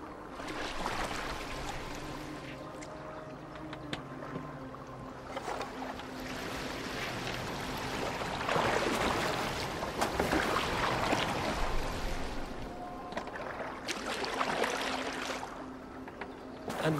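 A boat moves through water, giving a steady, full wash of churning water and hull rush that swells slightly in the middle and continues without talk.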